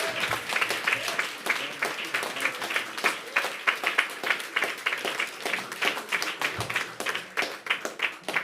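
Crowd applause at a New York City bill-signing ceremony, a steady spread of many hands clapping for several seconds with a few louder bursts, heard fairly close.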